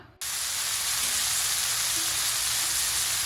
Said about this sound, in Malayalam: പാൻ ചൂടാകുമ്പോൾ കുറച്ച് കുക്കിംഗ് ഓയിൽ ഒഴിച്ചു കൊടുക്കുക